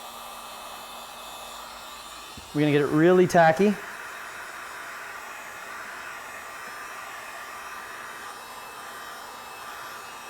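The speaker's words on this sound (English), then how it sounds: "We're going to grab our hair dryer or heat gun, and we're going to heat the material first." A hair dryer runs steadily as it heats sound deadening material for an E46 BMW 3 Series, a constant close whooshing hum throughout, briefly masked by a person speaking over it.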